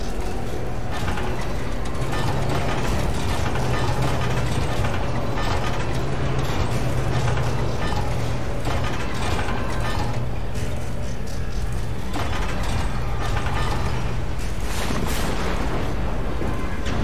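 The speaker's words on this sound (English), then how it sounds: "The elevator was already active." Resident Evil Village elevator machinery running, a loud continuous mechanical rumble with grinding and clanking, steady throughout with periodic heavier surges.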